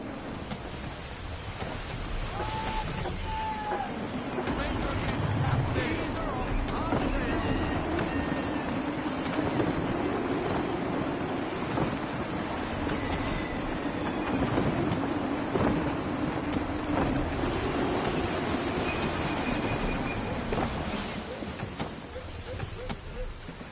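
Gusty wind and waves at sea aboard a sailing ship in Assassin's Creed 3, a steady broadband rush and wash that swells and eases throughout, with faint tonal game cues and occasional voices over it.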